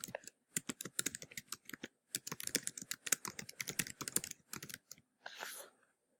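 Rapid typing on a computer keyboard while filling in a university application form, with steady close clicking in quick bursts separated by short pauses, ending in a soft brushing sound, no voices.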